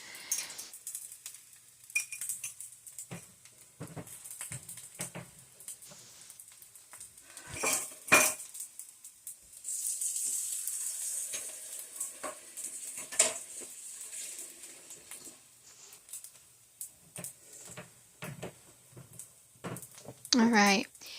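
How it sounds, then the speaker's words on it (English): A utensil scrapes and clinks against a pan as scrambled eggs and rice are stirred together, in scattered taps and scrapes with a stretch of soft sizzling, and a voice talks over it. "The rice and the eggs just all stirred in together"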